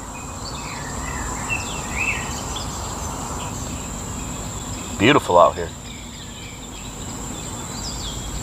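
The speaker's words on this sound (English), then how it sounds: "Birds chirping." Birds chirp faintly at an outdoor campsite, giving a few scattered short calls over a steady background chirr of insects. Someone briefly speaks midway through.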